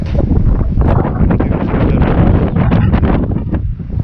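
Strong wind on a warm day in a Ukrainian village buffets the microphone in a continuous loud, gusty roar with rumbling low-end rustle and no voices.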